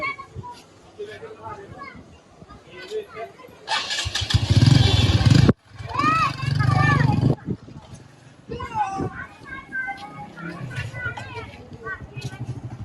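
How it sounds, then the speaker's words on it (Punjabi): A motorcycle engine starts and runs for a few seconds with a loud, rough roar, then cuts off. People talk before and after, partly over it. "ਆਪਾਂ ਮੋਟਰਸਾਈਕਲ ਤੁਹਾਨੂੰ ਇੱਕ ਵਾਰ ਨਾ ਚਲਾ ਕੇ ਦਿਖਾਉਨੇ ਆ"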